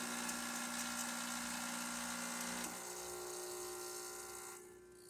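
A Quickmill Anita espresso machine runs during a service and tune-up, giving a steady, even motor and pump hum that shifts slightly in tone partway through and eases off near the end, with no voices.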